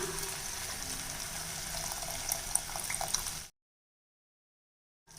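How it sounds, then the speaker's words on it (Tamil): Tamarind water pours steadily into a pan with a soft splashing hiss for a few seconds, then stops abruptly into silence. "இப்போ கரைச்சி வச்சுருக்க புளித்தண்ணி சேர்த்துக்கலாம்"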